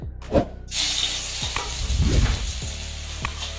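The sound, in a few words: ginger garlic paste frying in hot oil for momo chutney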